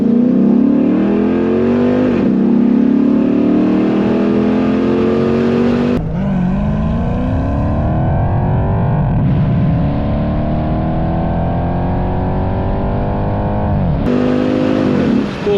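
A Dodge Magnum SRT8 V8 pulls hard in first gear, a loud continuous rising engine roar heard from inside the car, with shifts breaking the climb and the revs building again.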